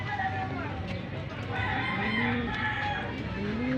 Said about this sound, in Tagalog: Ito yung hen.